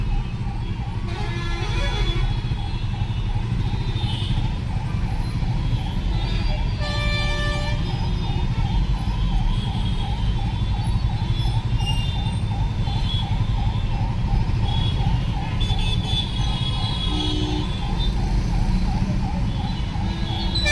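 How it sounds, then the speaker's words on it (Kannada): An ambulance siren wails steadily through dense traffic noise, with occasional car horns beeping over the constant road rumble. "ಹಿಂದೆ ಇದೆಯಾ ಆಂಬ್ಯುಲೆನ್ಸ್?"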